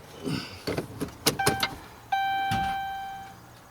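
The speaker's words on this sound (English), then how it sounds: "Can hear the fuel pump power up" A mechanical clicks and knocks, then a Hemi car's fuel pump powers up with a steady electric hum and droning high whine, with a thump partway through.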